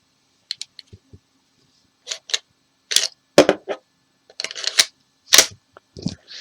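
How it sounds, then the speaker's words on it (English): Remington 1911 RAC pistol magazine sliding in and out of a tight-fitting mag well, a short series of crisp metallic clicks and scrapes, close and fairly quiet, alone without talk. "You can just hear that going in and out."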